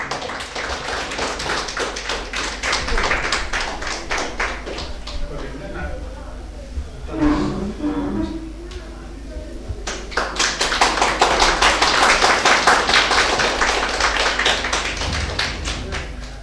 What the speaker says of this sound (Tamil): ஐயா அவர்களுக்கு கொஞ்சம் உங்களுடைய கைகளை தட்டி கொஞ்சம் ஆரவாரம் பண்ணுங்கள்